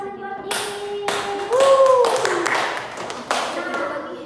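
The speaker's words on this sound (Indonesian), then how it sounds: "beri tepuk tangan buat Dini" A school class claps for a classmate named Dini during a catechesis lesson, scattered hand claps and taps with children's voices and a teacher talking over them.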